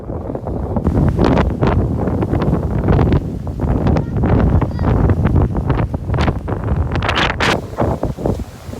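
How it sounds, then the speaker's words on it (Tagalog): Strong wind buffets the microphone in loud, rumbling gusts, with muffled speech mixed in underneath. "lakas ng hangin mga sir"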